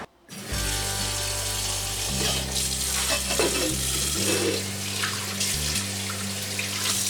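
Tap water runs steadily into a sink for hand washing before cleaning a Farberware Classic Series saucepan, a continuous close splashing with a low droning hum beneath it throughout, no talking.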